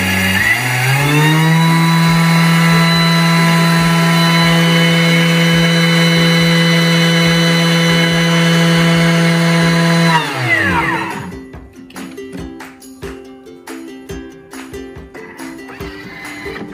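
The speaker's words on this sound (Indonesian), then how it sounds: "Kita akan blend dulu sugar ni 10 second" A blender whirs steadily at high speed for about ten seconds as it blends sugar, loud and close, then winds down, followed by clinks and handling noises.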